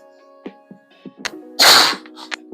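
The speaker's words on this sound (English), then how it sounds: "I gotta sneeze." A single forceful sneeze bursts out close up, a loud broad blast of about a third of a second, set among soft breathy vocal sounds and quiet room tones before and after.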